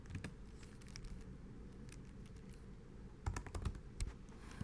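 Clicky keystrokes on a computer keyboard while writing Python code, irregular bursts of close taps with a quick flurry near the end, no talking.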